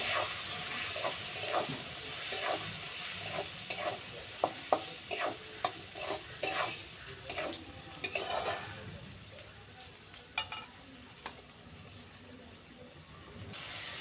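Spices with chilli powder and salt fry in a pan while a spoon stirs them. Busy clicking and scraping strokes come over a continuous sizzle, thinning out into a quieter steady frying hiss in the final seconds.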